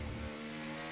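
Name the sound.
race car engine in an F1 racing video game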